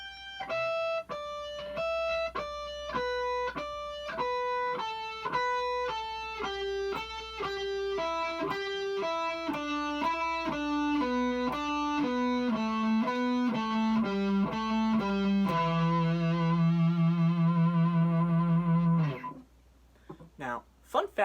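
Single guitar notes step steadily down a minor pentatonic scale, ending on a sustained low note, followed by a few faint clicks.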